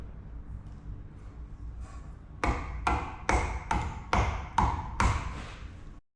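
Greased suspension bushes are hammered into a Volvo 245 rear axle: after a quiet start, six evenly spaced, sharp metallic blows ring out close by, each with a brief ringing decay.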